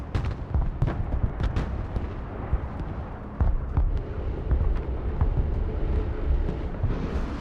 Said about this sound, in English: Here come the missiles. MLRS